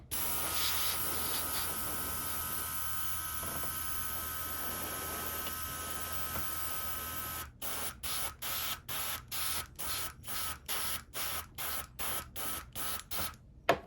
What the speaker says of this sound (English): Just gonna blow air onto this. I'm gonna blow air onto this base.